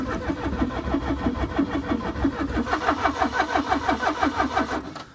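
A classic barn find car's engine is cranked by the starter, a loud, close, rhythmic chugging churn repeating steadily for about five seconds without catching, then cutting off.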